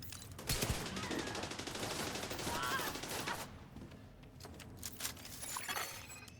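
Shotgun gunfire in a video game, a dense, continuous barrage of blasts and clattering impacts that eases off slightly midway before more sporadic shots resume.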